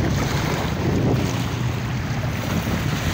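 Rough sea waves on Manila Bay crash and surge in a constant loud roar, mixed with wind rushing against the microphone, with no voices.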